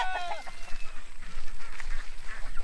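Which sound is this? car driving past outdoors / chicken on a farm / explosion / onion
chicken on a farm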